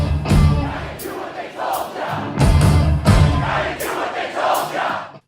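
A large concert crowd sings along with a guitar, with no lead singer. Massed voices roar and chant in loud surges over thumping band sound.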